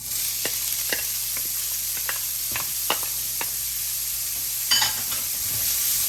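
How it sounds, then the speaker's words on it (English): Onions hitting a hot pan in a Cajun fettuccine dish with sausage and shrimp give a steady, loud sizzle, with a few sharp taps and stirs of a utensil over the continuous frying hiss. "Take your onions, add it to the pan."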